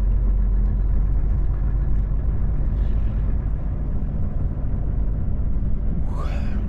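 Cab interior of a Volvo FH 540 truck on the road: a continuous, even low engine rumble and road drone holds steady throughout, with one brief faint chirp near the end.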